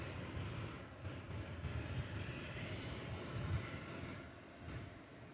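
An American Airlines Boeing 737-800 jet at DFW Airport in early morning light gives off a faint, distant, steady rumble with gentle swells.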